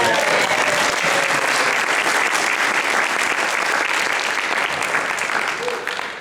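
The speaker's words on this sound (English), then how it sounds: "Let's have a great big hand for our sound man" A crowd applauds loudly and continuously, a dense wash of clapping that holds steady before tapering slightly at the end.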